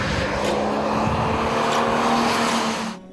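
The BMW M3 GT2 race car, a 375 kW Le Mans racer, drives with a loud, sustained engine roar and a steady high tone, then fades abruptly near the end.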